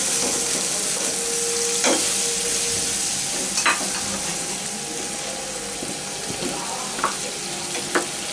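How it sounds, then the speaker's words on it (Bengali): Spices hiss and sizzle in hot oil while being stirred for a Bengali chicken curry with eggs, a steady frying crackle with a few sharp scrapes and clinks, close and alone. "এখন সব মশলাগুলো তেলের মধ্যে দিয়ে দেওয়া হলো।"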